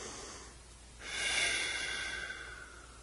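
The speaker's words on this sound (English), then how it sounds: "So let's take a deep breath." A single deep breath drawn in and let out slowly, a soft close airy rush that swells after a quiet start and fades gradually, heard alone with no talking.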